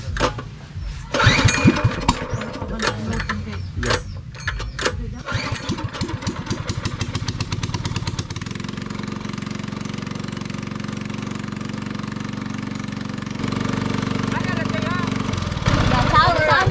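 A used boat's engine, just repaired, in Cebu, Philippines, sputters through several choppy starting attempts, then settles into a loud, steady running drone close by while people talk over it.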